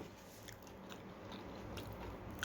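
Someone biting and chewing a hard, spicy-sweet snack, faint crunchy bites close to the mic over a low background, no talking.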